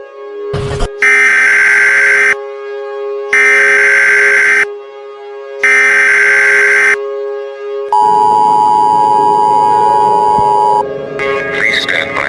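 Three loud, evenly spaced electronic buzzer bursts of an Emergency Alert System header sound, then a long, steady two-tone attention signal with a harsh, blaring alarm quality.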